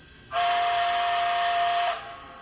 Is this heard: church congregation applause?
no